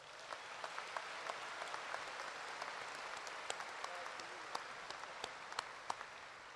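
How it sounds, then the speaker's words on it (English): A large audience at an MBA graduation ceremony applauds in a steady, distant roar of clapping, with occasional sharper individual claps standing out, faint and continuous throughout. "Please join me in giving a round of applause."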